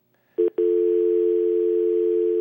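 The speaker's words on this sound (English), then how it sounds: "I hear a dial tone." A telephone dial tone on a call-in talk show line starts with a brief burst and a short gap, then holds as a steady, loud, unbroken tone through the rest of the clip.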